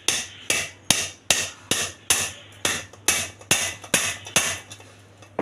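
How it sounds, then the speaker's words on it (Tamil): A small hammer taps the screw on an aluminium pan handle, about a dozen sharp metallic strikes at an even, steady rhythm, close and clear. "சின்ன சுத்தியலாகவே எடுத்துக்கோங்க. இப்போ நம்ம இந்த மாதிரி அடிச்சுக்கணும்."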